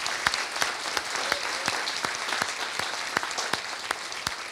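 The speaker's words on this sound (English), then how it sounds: "give them a hearty, hearty round of applause" A town hall audience claps steadily and warmly, a dense patter of applause with a few sharper individual claps standing out.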